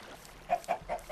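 Short clucks from Minecraft chickens, three or four in quick succession, clear against a quiet background.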